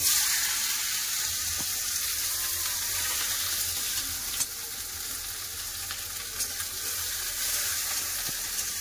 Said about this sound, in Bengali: তেল গরম হয়ে গেছে, ফোড়নে দিয়ে দেবো কালো জিরে, দিয়ে দেবো কেটে রাখা পেঁয়াজ